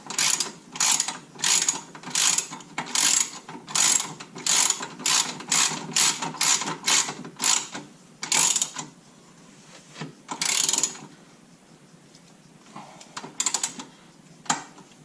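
Ratchet tightening the bottom axle bolt on a K24A2-swapped Acura Integra, a steady run of rapid clicking strokes in quick bursts, then a pause and a few scattered final clicks, close and clear with no talking.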